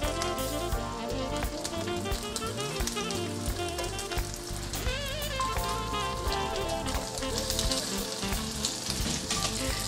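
Crab cakes sizzling in a pan right after being flipped, a dense continuous frying crackle with a background tune playing along.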